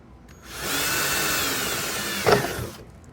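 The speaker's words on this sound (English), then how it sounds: "Let's get this other hole drilled." A power drill bores a screw hole for a kayak adapter, whirring steadily for about two seconds at close range with a brief louder bite near the end before spinning down.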